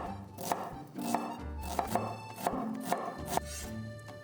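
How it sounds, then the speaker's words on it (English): A knife chops onions finely on a cutting board, about a dozen crisp close knocks in a quick, slightly uneven rhythm over faint background music. "Chop the onions very finely."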